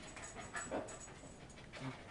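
A dog perched on a kitchen table pants quietly in quick, soft breaths, with a few faint whimpering squeaks mixed in.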